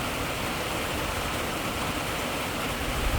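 Storm rainwater pours steadily into a barrel as a dense, continuous rushing splash, close and even in level throughout, with no voices.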